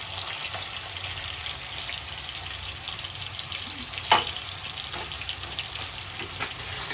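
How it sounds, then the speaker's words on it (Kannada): Garlic ginger paste fries with tomatoes in a pan for quick veg noodles. A steady, close sizzle runs throughout, with occasional light stirring scrapes and a brief clunk partway through. "Garlic ginger paste hockey."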